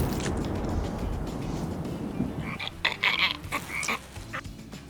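Frogs croak at night in short, bright bursts against a rushing background hiss, calling several times in quick irregular clusters, fairly close.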